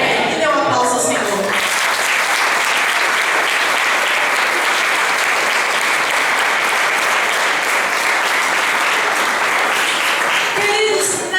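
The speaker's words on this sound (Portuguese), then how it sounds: "E dê um aplauso ao Senhor." Church congregation breaks into dense, sustained applause during a worship service, a loud, even wash of many hands clapping together with no speech over it, fading slightly at the very end.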